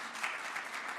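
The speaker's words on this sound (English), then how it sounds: "So, a clap for the plan." A brief, fairly faint burst of audience applause sounds at a primary health care reform meeting in North Macedonia. Soft, continuous clapping with small swells lasts about a second.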